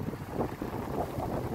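Steady wind rushes and buffets the microphone outdoors along a route to the Mall of Asia, a continuous low rumble with no voices.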